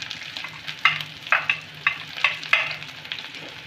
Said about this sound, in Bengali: এবার দেব একটু পেঁয়াজ কুচি।